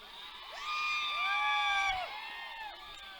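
A crowd at a cricket match between Koteshwarwadi and Pait in Mahangaon Nighoje cheers, shouts and whoops with rising whistle-like cries, building to a loud sustained roar for about a second before easing off.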